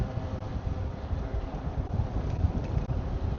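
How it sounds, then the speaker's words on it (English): Steady wind buffeting the microphone, a dense low rumble with gusty fluctuations throughout, no voices. "It is a bit windy out today."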